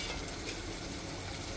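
Small onions cook in oil with turmeric, giving a soft, steady sizzle with faint stirring, brief and even.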